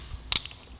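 A 12 mm wrench snapping a brake line bolt loose on a 2018-2023 Kawasaki Ninja 400, heard as a single short, sharp metallic crack in a quiet garage.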